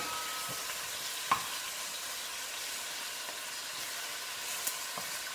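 Pork belly sizzles in a pot with star anise, celery and cinnamon sticks while being stirred, giving a steady, loud frying hiss with occasional soft scrapes and knocks of the spoon against the pot.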